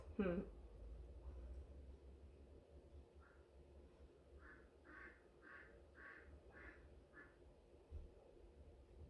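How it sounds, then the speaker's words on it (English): A domestic duck quacks in a short run of repeated calls, faint and somewhat distant beneath a steady background hum, with a louder bump at the start. "Can you hear my duck? She's very vocal."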